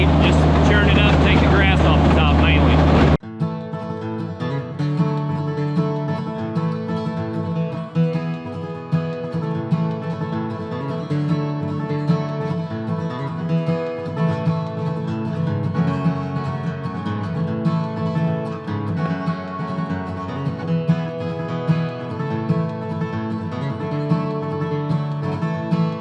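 A Kubota BX compact tractor churning up grassy ground for a dirt bike track, its engine droning loudly and steadily with rising and falling revs, close by after a brief burst of louder noise at the start.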